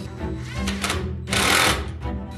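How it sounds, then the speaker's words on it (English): A drill boring into metal at slow speed with lubricant, a close, loud grinding whir that rises and falls, surging strongest near the end, with no voices. "Word of advice when drilling metal: slow speed, lots of lubricant,"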